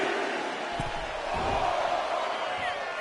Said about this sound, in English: drawing a big reaction from the crowd